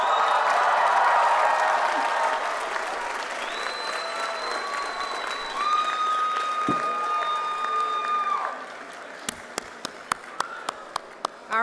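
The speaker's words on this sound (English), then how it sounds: "Turn around and give your loved ones a round of applause." Audience applause at a law school commencement ceremony, sustained and fairly distant, filling a large hall before tapering off into a few scattered claps.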